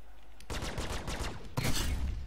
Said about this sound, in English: Ah, sucker punch cannons again.